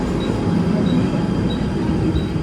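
A Mumbai local train runs near Dadar, heard from inside a lightly crowded first-class compartment as a steady, loud rumble of wheels and carriage noise with no pauses.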